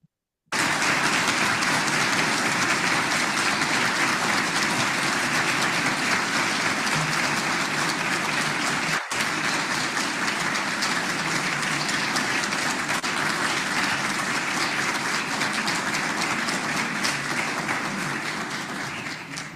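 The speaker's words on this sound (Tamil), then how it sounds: "எல்லோரும் 30 வினாடிகள் எல்லோரும் கைதட்டுமாறு பண்பாக கேட்டுக்கொள்கின்றேன்." Audience clapping at a Tamil gathering on music and meditation: a thick, continuous roar of many hands that starts abruptly and keeps up for nearly twenty seconds before tapering slightly, with one brief dip partway through.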